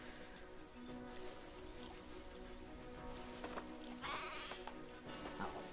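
Sheep bleat repeatedly on a farm in the video game Craft the World, the calls fairly faint over a steady busy game soundscape with a high tonal hum, clustering toward the end.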